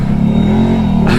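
A 4x4 with a manual four-wheel-drive conversion pulls away with four-wheel drive engaged, its engine rumbling loud and close in a steady drone.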